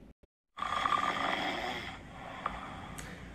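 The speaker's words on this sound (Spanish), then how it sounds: "todo el día escucho ronquidos de mi mamá" A woman snoring steadily in a hotel room, a single long rasping snore close by, preceded by brief faint breaths and near-silence.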